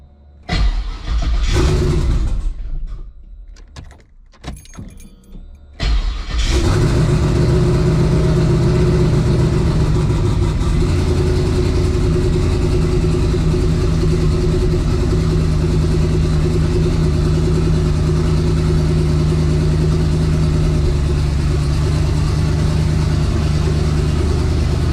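The cold twin turbo 5.3 V8 in a Mustang cranks with a few rough catches, then fires and settles into a loud, steady, deep idle that rumbles on evenly with no talking.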